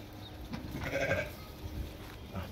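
Sheep bleating in a flock of ewes with a ram and lambs, a nearby bleat rising in the middle of a couple of seconds of outdoor background noise, with a fainter call near the end.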